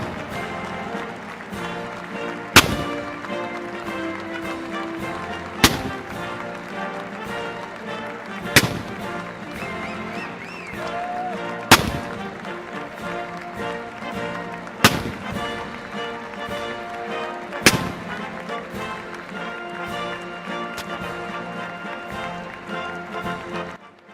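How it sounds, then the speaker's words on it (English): A 21-gun salute fired at a presidential inauguration, heard as sharp, loud reports spaced roughly three seconds apart over a steady backdrop of music and crowd noise. "you can't mute a 21 gun salute"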